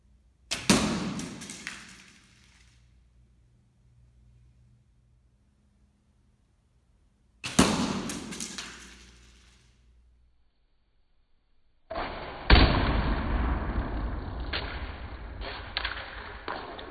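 Arrows are shot into Chinese lamellar armor plates, each one a sharp, loud impact with a brief rattling decay. Two hits come several seconds apart, followed by a longer stretch of steady, noisy rustling.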